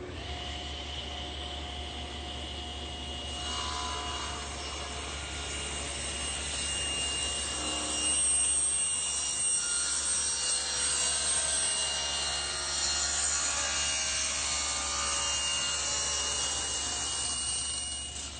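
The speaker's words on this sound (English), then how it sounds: "put the jig against the rip fence, as you push it through, you'll remove more and more material, and we'll get the taper that we want" A table saw cuts tapers into wooden bedside table legs using a jig against the rip fence, its steady whine rising into a louder, strained cutting tone midway and holding on, close and without talk.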